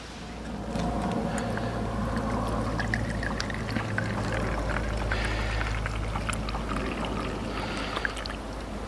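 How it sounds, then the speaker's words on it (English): Alcohol fuel pours steadily into a Swedish-made Trangia spirit stove outdoors, making a continuous close trickling and gurgling sound that lasts throughout with no break. "So you can actually fill up your Trangia stove like this"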